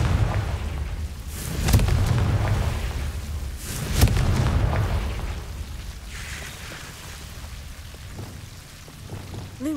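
The Confringo spell explodes in Hogwarts Legacy as two sharp, booming blasts about two seconds apart, each followed by a rumbling crackle, over low ambient rumble that fades toward the end.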